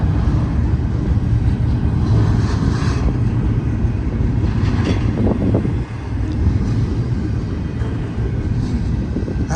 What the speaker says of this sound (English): Ford stack train with 4 locomotives.